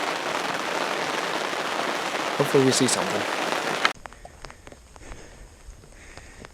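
Rain picking up over an outdoor field on a hunting outing, a dense steady patter for several seconds before dropping to a quieter, sparser backdrop, with someone speaking briefly.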